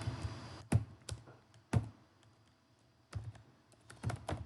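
Code being typed on a computer keyboard, with scattered bursts of key clicks and thumps and short pauses between them, close and moderately quiet.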